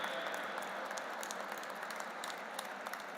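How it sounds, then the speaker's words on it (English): Steady applause from a sizable crowd at an interfaith harmony conference, dense and even clapping that carries on without a break. "a big round of applause and a standing ovation"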